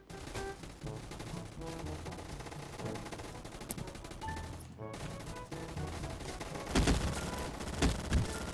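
Gunfire in the Roblox game Gunfight Arena, with steady automatic shots rattling through the game sound and a couple of louder bursts near the end.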